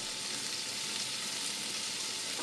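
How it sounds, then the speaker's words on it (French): Shrimp sauté with curry powder in a hot pan, giving a steady, dense sizzle that holds at an even level throughout, close up and with no talking. "On fait sauter nos crevettes comme ça pendant 3 minutes."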